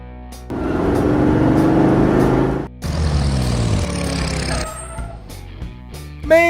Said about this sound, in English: Convertible.